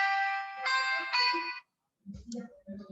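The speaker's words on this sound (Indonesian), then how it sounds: "Sebentar ya, saya angkat telepon ini." Phone ringtone in a quiet room: a bright, harmonic electronic melody rings loudly in three repeating bursts, then cuts off, followed by a voice answering the call.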